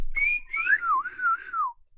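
A voice imitates a shrill whistle during a tabletop role-playing session, a clear rising then wavering tone held for about a second and a half, close and alone with no talk over it.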